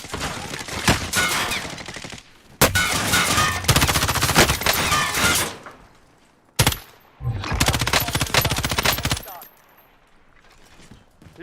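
Rapid automatic gunfire in a shooter video game, loud close bursts in several long strings separated by short gaps, with scattered single shots and faint background noise between them.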